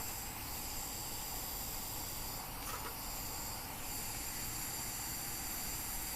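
A trail stove roars with a steady broadband hiss as it heats a pot of water towards a boil, constant and fairly close, with no voices.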